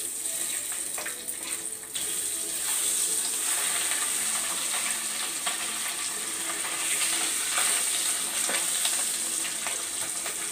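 Fish frying in hot oil gives a steady, dense sizzle with scattered sharp crackles and pops, close and continuous, with no voices over it.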